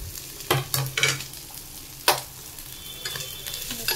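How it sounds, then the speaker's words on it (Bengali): Chicken pieces dropped into a hot pan and stirred, giving a few sharp clattering bursts over a steady sizzle of frying, close and fairly loud. "এরপরে এই চিকেনগুলো দিয়ে দিই"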